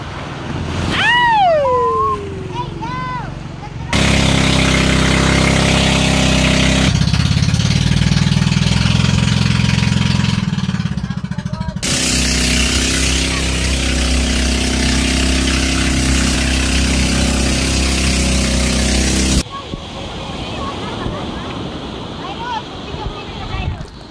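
A motor boat engine rumbles loud and steady at the Puerto Princesa underground river, a heavy low drone that cuts in and out in long stretches, with people talking before and between the engine bursts.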